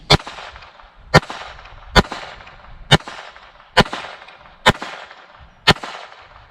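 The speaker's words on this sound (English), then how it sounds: "I'm going to go for the big silhouette like I always do, shooting it." A Keltec P17 .22LR pistol fires seven crisp, moderately loud shots at an even rhythm toward a bowling pin, each report followed by a faint ringing and rattle from the target.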